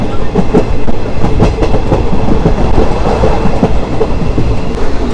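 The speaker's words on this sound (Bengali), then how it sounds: "ট্রেন ছাড়ার সাথে সাথেই মানে একদম স্পিড নিয়ে এসে ভালো স্পিডে কিন্তু ট্রেন চলা শুরু হয়েছে" A train running at speed after leaving Baharampur station, with a steady loud rumble and a rhythmic clickety-clack of wheels over rail joints filling the whole stretch. No voices are heard.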